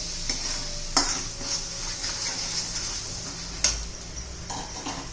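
Masala spices fry in a pan for a raw banana bhaji, a steady close sizzle broken by several sharp scrapes and clinks of a spoon stirring against the pan.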